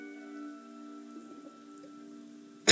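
Rain falling in the dinosaur park game Prehistoric Kingdom: a steady, soft patter over a low tonal hum, with a sharp brief burst right at the end and no voices.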